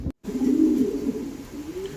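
A pair of black Danish pigeons coos in a steady, close, low murmur that rises and falls, with a brief silent gap near the start and a fainter coo trailing off at the end.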